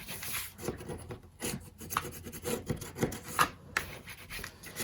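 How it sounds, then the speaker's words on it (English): Paper pocket for a handmade mini album burnished flat on both sides, a close, dry rubbing and rasping with short repeated strokes and small scraping bursts, steady and fairly quiet with no talking. "and then you can burnish on both sides."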